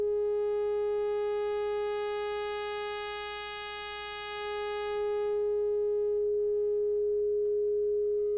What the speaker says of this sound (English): you have what's called TLM, time linearity modulation, I believe, which is basically like pulse width modulation for all waveforms. So you can hear that here with a sine wave.